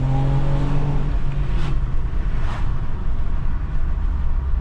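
A 2021 Toyota Camry TRD's engine drones loudly inside the cabin, with two short rev blips as it rev-matches on a downshift, all over steady road noise.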